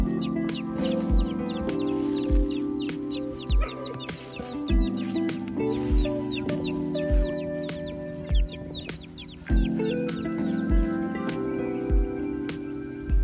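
Chicks cheeping behind a garden wall, separated from their mother hen, their thin repeated peeps scattered through the clip amid nearby hen clucks and soft thumps, with no talking.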